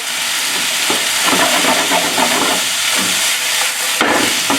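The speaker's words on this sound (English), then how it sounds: "Now we're gonna add in all the vegetables you have." Mixed vegetables, including mushroom and carrot, stir-frying in a hot 12- or 14-inch commercial non-stick pan, giving a loud, steady close sizzle and hiss with stirring scrapes and a sharper clatter near the end, no voices.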